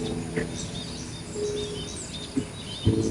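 Birds sing faintly at a quiet outdoor retreat, with thin scattered chirps and tweets over a soft ambient hiss, plus a few brief low knocks.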